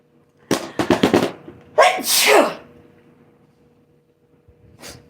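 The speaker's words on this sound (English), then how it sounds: "1 sneeze, fine. 2 sneezes, okay. 3 sneezes, stop it." Several sneezes in quick succession, loud and close, then a pause and one more fainter sneeze.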